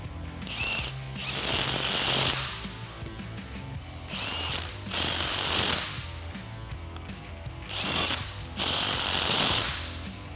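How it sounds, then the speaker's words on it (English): An impact gun fitted with an 8mm Allen bit drives studs tight on a Dodge RAM 1500 front strut assembly during a leveling kit install, firing in three loud bursts of hammering rattle separated by short pauses. "use an 8mm Allen bit on an impact gun"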